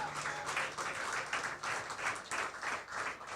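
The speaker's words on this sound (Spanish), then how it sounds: "Regálele ese aplauso al Señor." Church congregation applauding at an evening worship service, a moderate, somewhat rhythmic clapping that pulses in waves with a faint sustained tone beneath it.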